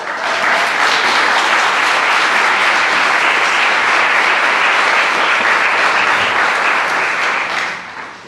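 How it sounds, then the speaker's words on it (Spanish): A church congregation breaks into loud, dense applause, close and full, holding steady for several seconds before fading quickly at the end. "merece un aplauso"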